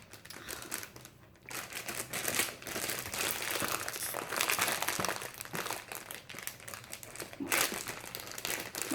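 A chocolate cookie wrapper crinkles and crackles as someone struggles to tear it open, in bursts of close, papery rustling with short pauses between.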